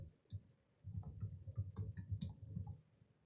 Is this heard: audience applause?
no